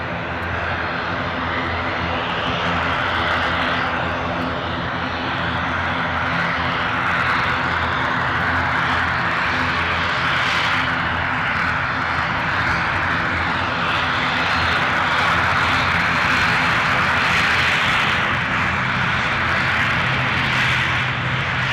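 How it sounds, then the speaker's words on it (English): A turboprop airplane at Edinburgh Airport gives off a loud, sustained engine roar and whine with a steady broadband rumble that swells slightly over time. It sounds fairly close, with no talk over it. "Ooh, turboprop action."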